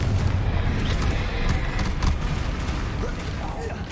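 A Confringo fire-blast spell bursts in Hogwarts Legacy on PS5: a dense, rumbling explosive roar with crackling bursts, sustained over several seconds amid game noise.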